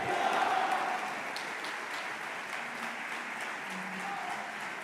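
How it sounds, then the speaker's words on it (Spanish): A large audience at an award ceremony gives the president a sustained, dense round of applause, heard from a distance as a steady wash of clapping that eases slightly after the first second. "fortísimo aplauso al presidente Javier Milei"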